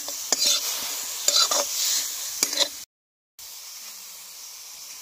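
Grated radish and onion frying and being stirred in a pan for mooli paratha filling, giving a hissing sizzle with several scraping stir strokes, then a brief dropout and a quieter continuing fry.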